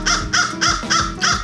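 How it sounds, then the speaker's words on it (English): A crow in Myakka State Park caws five times in an even, steady rhythm, each call harsh, loud and close, with nothing else heard around it. "We're contending with a crow over here who wants to get his audio opinion"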